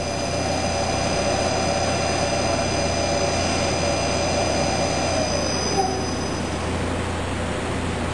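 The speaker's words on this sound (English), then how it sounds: "turn my spindle on again backwards, come down and physically hit the edge of that tool" A CNC machine spindle running in a workshop gives a steady, loud mechanical whine and hum throughout, with a slight change in pitch toward the end and no voices.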